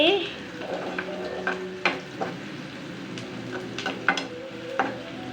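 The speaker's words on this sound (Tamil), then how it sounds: "கலர் மாறுற வரைக்கும் வதக்கணும்" Ingredients sautéed in a pan until they change colour, a steady close sizzle broken by irregular scraping stirs and a few sharp utensil knocks.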